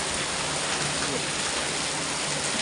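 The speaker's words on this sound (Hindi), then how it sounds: "हमने सोचा आज बारिश नहीं आएगी, लेकिन इधर बरसात आ गई" Heavy rain pours down in a mountain village in Uttarakhand, a dense, steady hiss of falling water at constant loudness, close and unbroken, with no speech over it.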